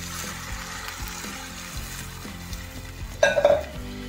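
Water poured into sizzling masala in a pan for a sea pomfret fish curry: faint frying hiss with soft stirring, then a short burst of louder bubbling and spitting near the end.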